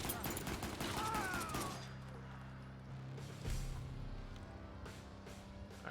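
An enemy player in Fallout 4 fires a gun, and a rapid burst of gunshots comes in the first couple of seconds, loud and dense, then fades to quieter game ambience with a few later thumps.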